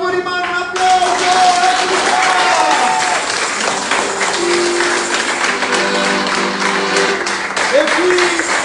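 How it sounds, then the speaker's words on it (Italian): Applause from a crowd gathered at a rustic countryside eatery in Sora, Ciociaria, a steady patter of clapping under background chatter and some tonal sounds, fairly loud and close throughout. "un applauso!"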